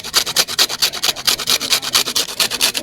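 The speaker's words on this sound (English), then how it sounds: "So I use my grater. Now you remove just the upper part." Lemon peel is grated by hand on a grater in a village kitchen, a close, rhythmic scratchy rasp repeating about eight times a second with no talk.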